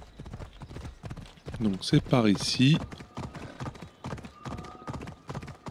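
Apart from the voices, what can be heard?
horse hooves in Assassin's Creed Odyssey video game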